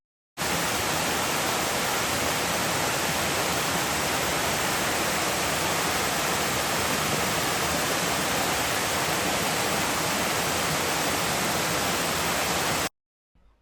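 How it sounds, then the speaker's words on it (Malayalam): Dense, constant roar of Chembanavi waterfall pouring over rocks, loud and close with no break, cutting off abruptly just before the end. "പാറകളുടെ മുകളിലൂടെയാണ് പാൽ ഒഴുകുന്ന രീതിക്ക് വെള്ളം ഇങ്ങനെ താഴോട്ട് ഒഴുകിക്കൊണ്ടിരിക്കുന്നത്"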